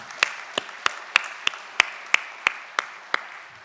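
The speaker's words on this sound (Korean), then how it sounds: "우리 박수로 환영을 하겠습니다" A church congregation at a Sunday morning service claps to welcome visitors, giving about ten sharp, evenly spaced claps in a steady rhythm, close and distinct against a quiet room.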